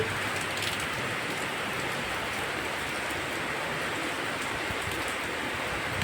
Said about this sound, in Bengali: তুমুল বৃষ্টি হচ্ছে